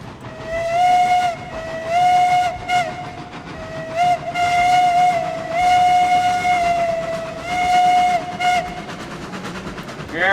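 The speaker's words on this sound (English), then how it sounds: "Blow the whistle" A steam locomotive whistle, the Glenbrook engine in the game Railroads Online, sounds loud and near in several long sustained blasts with short breaks between them, over a steady rumbling background of the engine.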